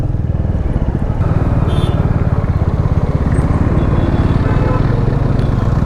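A motorbike rides along the Mahendra Highway through Hetauda, Nepal, its engine a steady, loud, close drone with wind and road rumble, holding an even pitch the whole time.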